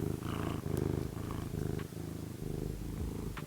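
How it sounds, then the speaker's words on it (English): A cat purrs close up in a quiet room, a soft rhythmic rumble that swells with each breath in a steady pulse of roughly two cycles a second, with no talk over it. "I hope you like the ASMR cat purring."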